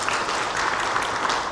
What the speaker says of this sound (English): Let's give a big round of applause to CA Rajiv Hira